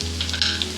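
Masala sizzles steadily in a pan for mish dal, a close, continuous frying hiss with a few brief louder crackles.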